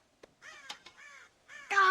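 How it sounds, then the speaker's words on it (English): Crows cawing in Red Dead Redemption, several harsh, ragged calls in quick succession, fairly close and clear with short gaps between them, the last caw loudest. "God damn crows!"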